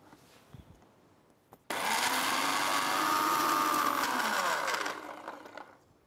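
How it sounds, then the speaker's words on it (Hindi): A mixer grinder whirs loud and steady for about three seconds, blending green chutney of roasted chana dal, tamarind, salt and a splash of water, then winds down to quiet. "इसे अब हम ग्राइंड करेंगे."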